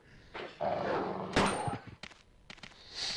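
Zombie dogs in Resident Evil 2 snarl and growl amid sharp gunshots and thuds, a short close burst of barking and firing.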